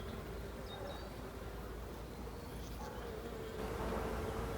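A bee swarm at its hive gives a faint, steady buzzing drone with a few closer passing bees, holding evenly and swelling slightly toward the end.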